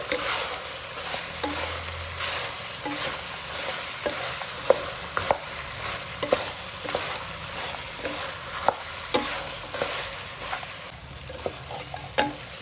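Ginger-garlic paste fries for mutton sambar, a constant close sizzle broken by frequent sharp scrapes and taps of a spoon stirring the pan, with no voices.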